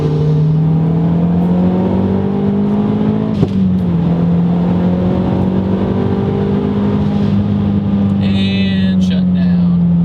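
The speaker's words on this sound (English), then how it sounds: "we'll do a little third gear roll on." A 2009 MazdaSpeed3 pulls hard in third gear, its engine drone rising steadily and loud from inside the car for about ten seconds, with a short knock partway through.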